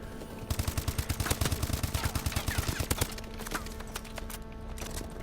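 Rapid automatic gunfire in Call of Duty: Black Ops 3, a loud burst of evenly spaced shots for about two and a half seconds, then scattered fainter shots and game noise.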